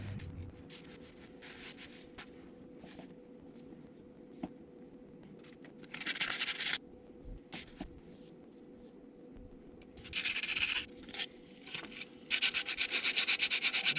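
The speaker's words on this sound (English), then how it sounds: "Try to do some more sanding on this edge right here." Hand sanding with 320 grit sandpaper near the front main seal on a 2006 Duramax diesel engine, soft rubbing strokes that come in short scratchy bursts, louder and faster near the end, with quiet gaps between.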